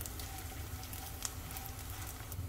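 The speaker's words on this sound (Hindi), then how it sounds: "गोंद को आगे पीछे करके इस तरह से फ्राई करेंगे" Edible gum (gond) is shallow-fried in a pan on a low flame until crisp. A faint, continuous sizzle and soft popping crackle run steadily throughout.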